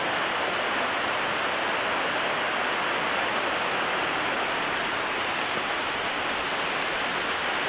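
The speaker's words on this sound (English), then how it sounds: "Creek down there." A creek flowing below the road near the Lehigh Tannery ruins makes a steady, dense rushing wash that stays even throughout, with no voices.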